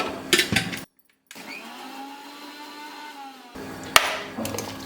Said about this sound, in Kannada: ಇದನ್ನು ಹಾಕ್ಕೊಂಡು ಒಂದು ಸುತ್ತ ಆಡಿಸ್ಕೊಂಡ್ಬಿಡೋಣ ಅವಾಗ ಅದು ಮಜ್ಜಿಗೆ ಆಗುತ್ತೆ